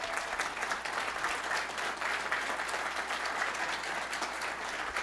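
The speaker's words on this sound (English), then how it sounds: "It was so good that even Honeycomb is in the back giving a round of applause." An audience at FlightSimExpo gives a round of applause. The clapping is dense, sustained and steady, filling the hall for the whole stretch with no talk above it.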